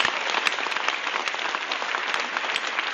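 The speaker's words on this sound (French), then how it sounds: "Donc j'aimerais bien qu'on l'applaudisse." A crowd claps together at a 2017 activist convergence meeting in Le Havre, giving dense, steady applause that fills the room for about three seconds with no voices over it.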